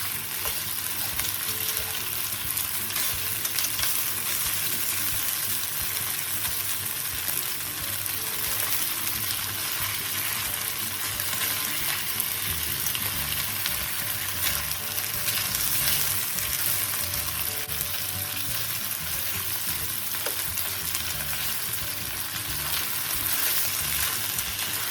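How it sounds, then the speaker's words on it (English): Pork belly sizzles and crisps in a wok while being stir fried with double chilli, a continuous close crackling hiss with occasional stirring scrapes, steady throughout and with no talk. "What I'm doing now is try to let the pork get a bit crispy"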